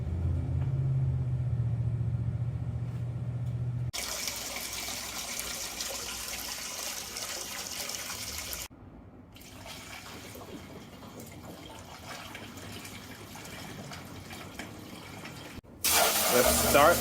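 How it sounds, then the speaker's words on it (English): Water runs steadily from a hose or tap into a food truck's water tank. The flow is a continuous rushing hiss, and its tone shifts a few times as the filling goes on, with a low rumble underneath. "But first, I have to fill up this water tank"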